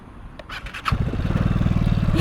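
Engine cranking and catching, a brief starter whir that settles into a fast, loud, pulsing idle, heard close and alone.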